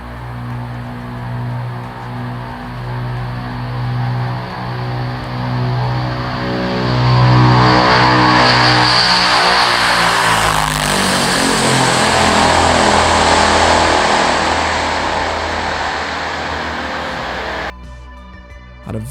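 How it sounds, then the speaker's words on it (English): A turboprop aircraft engine runs steadily with a loud, droning propeller hum and layered whining tones that swell in the middle, then cut off abruptly near the end. "a turboprop is just a jet engine which drives a propeller instead of a big fan"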